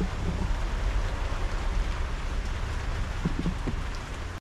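Steady rain falling outdoors, a dense, even hiss of drops that stays loud and unbroken throughout with no voices.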